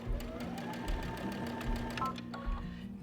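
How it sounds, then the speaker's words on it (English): A computerized Brother or Baby Lock sewing machine sewing forward, a steady close mechanical whir with a rapid needle rhythm and slight pitch shifts as it runs, unbroken for the whole stretch. "Now I want to sew forward."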